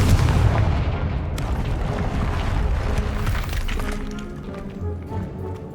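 The Confringo blasting spell explodes in Hogwarts Legacy with a loud, dense roaring boom that fills the scene and slowly thins out, with crackling debris and a low rumble trailing after.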